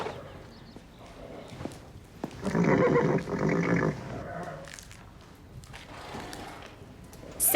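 Comanche the horse lets out a loud whinny that lasts about a second and a half in the middle, framed by quieter shuffling and hoof sounds in an animated scene.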